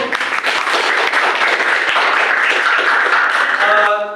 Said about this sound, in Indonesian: beri tepuk tangan buat kelompok 1